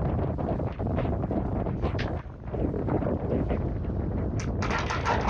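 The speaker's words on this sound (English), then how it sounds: "the wind was blowing 20 knots" Strong 20-knot wind at a sailboat anchorage roars steadily across the microphone, a loud, continuous buffeting rush with gusty swells and no voices.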